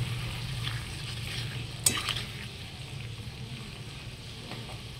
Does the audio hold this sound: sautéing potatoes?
yes